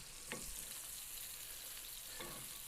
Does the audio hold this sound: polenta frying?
yes